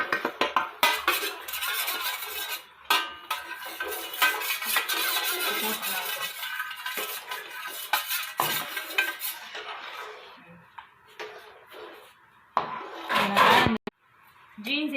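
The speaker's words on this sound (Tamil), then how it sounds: "இது கட்டி பிடிக்காம கிண்டணும் கொஞ்சம். அதனால் 2 பேர் போட்டு கிண்டிகிட்டு இருக்கோம்." Kesari being stirred in a pan by two people, with repeated metal scraping and clattering strokes, loud and close, while people talk at times.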